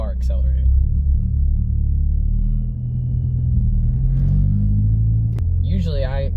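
Manual stick-shift car accelerating, a loud low engine rumble inside the cabin that rises and shifts in pitch, with a person speaking briefly at the start and end.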